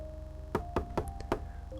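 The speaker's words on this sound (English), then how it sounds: "Owen knocks on the door." Four firm knocks on a green front door numbered 14, evenly spaced then a slightly longer gap before the last, close and alone over a soft steady background tone.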